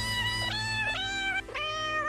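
A cat meows three times in a row, clear and close, each call rising then falling, over a steady low background hum.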